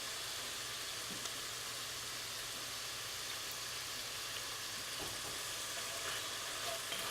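Venison pieces browning in a pan for chili give a soft, continuous sizzle, close but low in level, with no talking over it.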